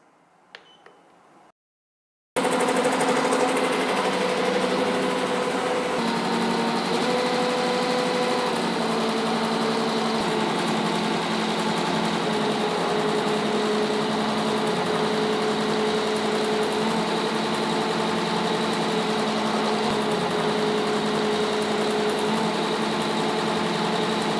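A BAi Vision embroidery machine stitches a design onto a hoodie, a steady mechanical whir with a rapid needle rhythm and faint tonal hum that runs evenly after a short quiet start.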